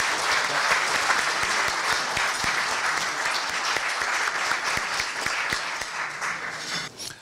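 Audience applause greets Seoul mayor Park Won-soon at a Korea University labor-management-government forum: steady, dense clapping from a large crowd, loud and sustained, tapering near the end.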